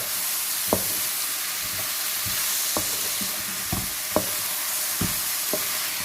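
Chicken-vegetable stir fry with cashews sizzles steadily in a hot pan while a utensil scrapes and knocks through it in irregular strokes, close up and without talk.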